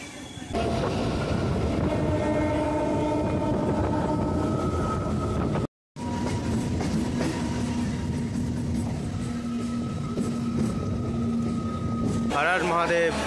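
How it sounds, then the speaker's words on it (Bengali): Train pulling into a station on the route to Howrah in India, with a steady rumbling roll, drawn-out horn tones and a clatter of wheels that stops briefly and then resumes. Voices can be heard faintly under the noise. "ট্রেন ঢুকে পড়েছে, আমরা হাওড়া যাচ্ছি।"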